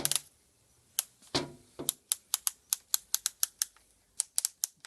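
Quick plastic clicks from the torque setting collar being turned on a Stanley Fatmax cordless drill, a dense run of sharp close ticks in an uneven rhythm with a few short pauses, no voices.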